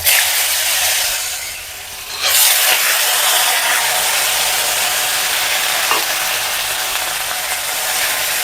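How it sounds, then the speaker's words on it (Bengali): Diced potatoes frying in hot oil with bay leaf, dried red chilli and cumin for a Bengali radish ghonto, a steady loud broadband sizzle throughout with a brief dip near the start. "আলুগুলো একটু হালকা ভেজে নেব।"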